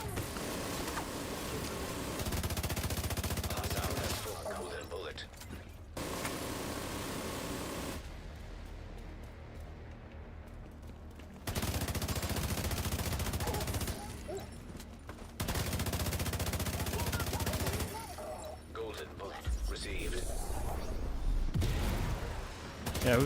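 Bursts of rapid gunfire in the shooter game The Division, loud sustained fusillades broken by several quieter gaps, heard fairly close.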